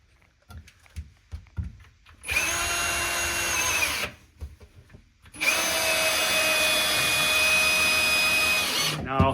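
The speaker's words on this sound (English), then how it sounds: "So now I just got to screw it together." A power drill drives screws into a 2x4 and 2x2 wooden frame for a sink base cabinet, with two sustained high whirring runs, the second longer, between quieter handling clatter.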